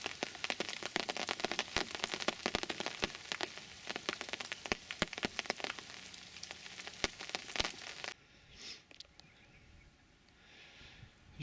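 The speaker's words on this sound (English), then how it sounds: "Well, it's drizzle really." Light drizzle falling by the River Swale in early September, a dense patter of fine drops tapping nearby surfaces for about eight seconds before it cuts to a much quieter, softer outdoor background.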